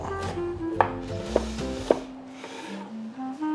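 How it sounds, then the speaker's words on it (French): A knife chops shallots finely on a cutting board, a few crisp distinct knocks spaced about half a second apart, close and clear over soft background music. "Donc on va couper nos échalotes. On va lâcher finement."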